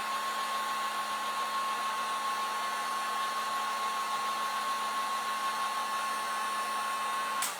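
A hair dryer blows steadily on a freshly painted Christmas decoration, giving a loud, even whine and rushing air for several seconds before it clicks off.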